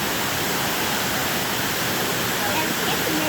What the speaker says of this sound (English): It's just waterfalls everywhere.